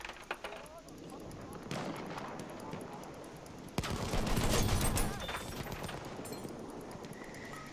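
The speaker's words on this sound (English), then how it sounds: "There! Enemy machine gun!" An enemy machine gun fires in the Battlefield 1 Sinai Desert map, rapid distant bursts that grow louder and denser midway amid other battle noise.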